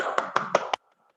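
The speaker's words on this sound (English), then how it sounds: "clapping," One person does a hand clapping exercise during an online yoga workshop session: four crisp, evenly spaced claps close up, followed by near silence.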